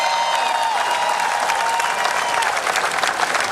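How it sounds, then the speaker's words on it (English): Huge outdoor crowd at the Pittsburgh Penguins Stanley Cup victory parade applauding the team owners, a continuous roaring wash of clapping and cheering with a distant whistle tone early on. "Let's give them a round of applause."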